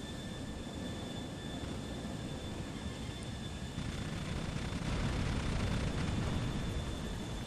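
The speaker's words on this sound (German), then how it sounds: "Jetzt kommt noch der wieder mit seinem scheiß Helikopter" A helicopter flying in the video game GTA: The Ballad of Gay Tony, a steady dense rotor-and-engine roar that grows a little louder toward the end, with no talk over it.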